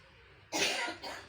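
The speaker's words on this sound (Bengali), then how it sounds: "এই কাশিটা হয়েছে ভীষণ কাশিটাই কমছে না" Two harsh coughs from a person with a cold, the first longer, the second shorter after a brief pause, close by and alone.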